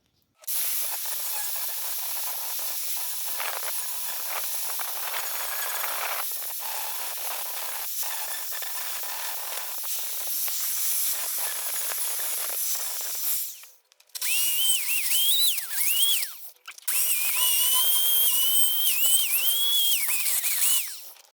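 Filler being ground back on the A-pillar and scuttle area of an Opel Manta B body during a driveway restoration. A loud, steady, hissing grind runs throughout, with a brief stop around the middle and a wavering whine as the tool works the surface.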